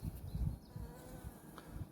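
Soft, steady buzzing of honeybees close by at the hive, a low continuous hum with slight swells, no voices.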